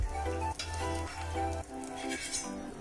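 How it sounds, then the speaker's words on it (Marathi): Kothimbir vadi, Maharashtrian coriander fritters, fry in hot oil in a kadhai with a quiet, steady sizzle heard close up, without any talking. "आता आपण पूर्ण वड्या तळून घेऊ."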